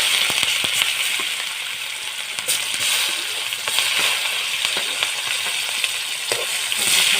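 Chopped onions and green chillies fry in hot oil in a pan, a steady, loud, close sizzle with occasional stirring scrapes and no speech.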